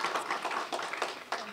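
Audience applause at a university women's leadership colloquium, a steady wash of hand clapping held at moderate level for the whole stretch, with a few sharper claps standing out.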